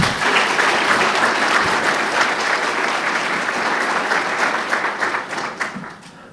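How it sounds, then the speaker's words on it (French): An audience at the closing ceremony of a capacity-building training in Fatick applauds security and defence agents, a full, even round of clapping from a crowd that carries for several seconds before tapering off. "Je vous demande de les applaudir."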